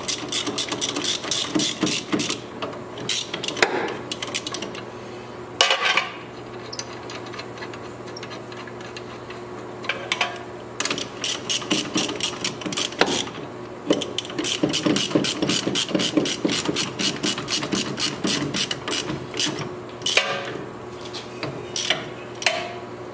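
A wrench ratchets on a 14mm nut while coilovers are adjusted, giving dense rapid clicking in repeated bursts with short pauses over a steady background hum.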